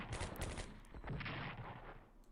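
Game gunfire from Strategic Command: WWII: a few sharp shot bursts, the first cluster early and another about a second later, each trailing into a rumbling decay, fairly quiet overall.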